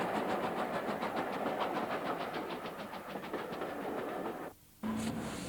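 Indian steam locomotive, a Pacific type hauling a train at modest speed, rumbles along the rails with steady broadband noise and rhythmic clatter, close and continuous, with a brief drop-out near the end before resuming.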